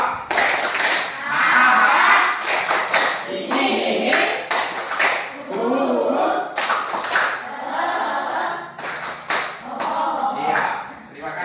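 A classroom of students performs a rhythmic clapping chant together, bursts of claps and taps mixed with voices chanting and laughing, loud and close, continuing throughout.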